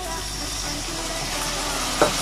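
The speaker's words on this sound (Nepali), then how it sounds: "हामी अलिकति पानी हालिदिन्छौँ है" Curry frying in a pan while a little water is poured in gives a steady, close sizzle and hiss throughout, with a brief small splash near the end.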